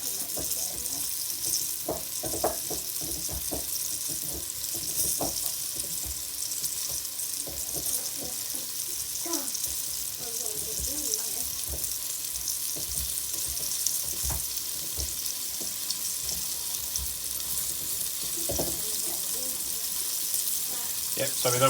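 Beef browns in a frying pan for a beef stew with dumplings, giving a continuous bright sizzle throughout, broken by occasional clinks and stirring noises.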